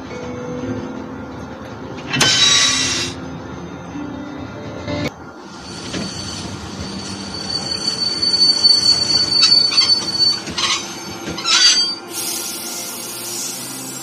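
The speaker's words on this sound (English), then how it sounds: "Stop the train, man." Metal train wheels squeal loudly in The Walking Dead video game, in harsh high-pitched bursts of screeching over a low rumbling rail background, with a final piercing stretch near the end.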